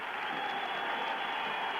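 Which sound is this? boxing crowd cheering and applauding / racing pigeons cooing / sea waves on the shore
boxing crowd cheering and applauding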